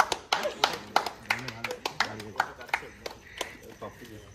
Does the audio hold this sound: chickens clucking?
no